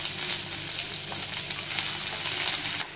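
Onion sizzles in hot oil for a restaurant-style varutharacha chicken curry: a loud, dense, continuous crackling fry, close up and steady, dropping slightly in level just before the end.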